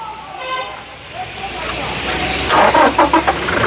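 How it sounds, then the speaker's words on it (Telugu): A 2017/18 Toyota Innova Crysta 2.4 diesel engine cranks and fires on a single start, settling into a steady running hum with brief horn-like toots near the end, while people talk over it. "సింగిల్ సెల్ఫ్లో కార్ స్టార్ట్ అవుతుంది ఎటువంటి స్టార్టింగ్ ట్రబుల్ అయితే లేదండి"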